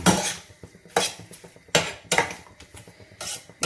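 A spoon scraping and clanking against a pan while pineapple halwa cooks down with sugar, in irregular bursts of metallic knocks and scrapes, close and fairly loud.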